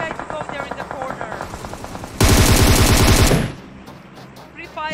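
Automatic Beryl rifle fire in the PUBG Mobile video game, with a rapid, loud burst of gunshots under game-commentary talk, ending in a fuller, louder stretch before it cuts off.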